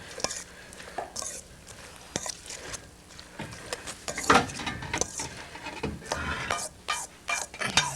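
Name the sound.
stirring salmon in a pan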